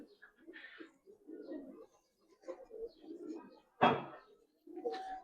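Giribaz pigeons coo in soft, low rounded bursts, several close calls scattered across the stretch, with a sharp brief knock partway through and someone talking intermittently nearby.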